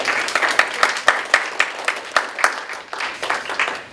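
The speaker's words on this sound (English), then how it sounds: "Let's give a big round of applause." Applause at a cabinet meeting, a modest group clapping close by with a few distinct individual claps standing out, steady for several seconds then thinning.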